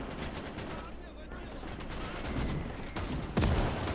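Mortar rounds and gunfire in the World War II strategy game Gates of Hell, a dense continuous clatter of shots with a heavier impact near the end, building slightly louder through the battle.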